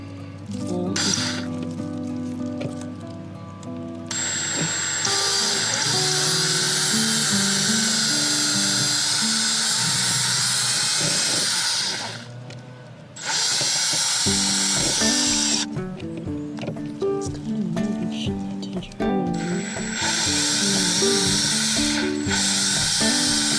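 A power drill bores into a fence, whining loudly in long sustained bursts that change pitch as it bites, with short pauses between runs.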